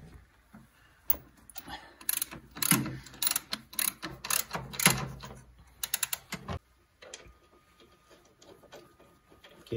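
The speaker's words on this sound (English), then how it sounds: "And then just slowly ratchet it in." A ratchet with a swivel-head extension tightens a jackshaft bearing mount bolt on a Polaris 850, giving bursts of rapid metallic clicks in short strokes, close, then trailing off into quiet.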